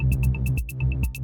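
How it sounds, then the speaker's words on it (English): An OBXD synth bass line pumps in a rhythmic swell-and-duck pattern from sidechain compression keyed to a punchy bass drum, with bright ticking hats over a steady groove. "And you hear the bass line pumping."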